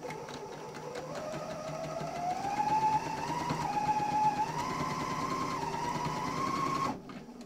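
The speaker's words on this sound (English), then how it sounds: "let's run it through the serger and see how it looks" A Bernina L460 serger stitches through a double layer of cotton in one steady motorized run, its whine climbing slightly in pitch before it stops abruptly near the end.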